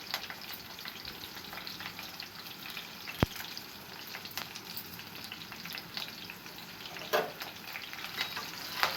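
Quiet, continuous sizzling of onions and green chillies frying in oil, broken by an occasional sharp tap and stirring sounds.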